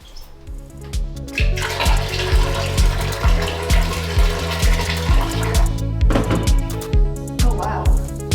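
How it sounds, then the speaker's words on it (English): Freshly boiled hot water is poured into a clogged bathroom drain, producing a close, continuous splashing gush that pulses slightly as the pour continues. "next you're supposed to pour some hot water into it and just kind of help break it up"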